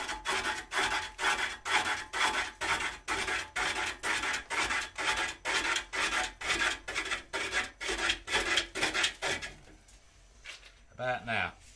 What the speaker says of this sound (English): we're heading for the sharpener